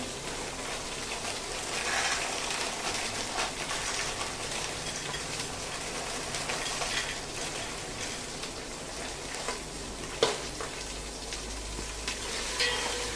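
Chopped mixed vegetables go into a pan of frying paneer for veg pulao, producing a steady, rain-like sizzle with occasional clicks of stirring throughout.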